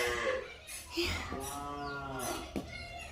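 A cow moos loudly nearby, one long drawn-out low call, with some background noise around it.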